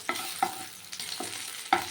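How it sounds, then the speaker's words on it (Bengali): Potato slices frying in oil for a Bengali vegetarian meal: a soft background sizzle broken by four sharp utensil taps and scrapes at irregular intervals. "ওদিকে আলুটা চাকচাক করে ভাজা বসিয়ে দিচ্ছি"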